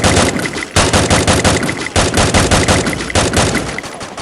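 Rapid automatic gunfire from a battle royale video game, loud and continuous in dense bursts with brief gaps, close and alone with no talk.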